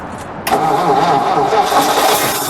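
A 1952 Ford Crestline Sunliner convertible engine cranks briefly and then catches, settling into a loud, steady close-up idle with a deep rumble.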